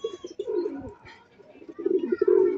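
Pigeons in a Palit patuka loft, including a red checkered bird, coo in low repeated throaty phrases at close range, with faint chirps and some background human voice.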